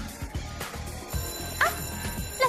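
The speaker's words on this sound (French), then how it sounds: "La sonnerie. On doit aller en classe." An electronic bell rings briefly in a school hallway, a faint trilling tone over quiet background murmur.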